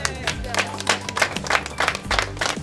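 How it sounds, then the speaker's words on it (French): Scattered clapping from a small group of gilets jaunes protesters, brief irregular bursts mixed with nearby voices talking over them. "Ça s'applaudit ça quand même."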